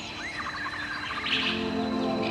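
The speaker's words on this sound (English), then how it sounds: "Welcome to the captivating world of beautiful birds." Several birds chirp and sing in quick, high twittering phrases over a steady background hum, close and continuous throughout.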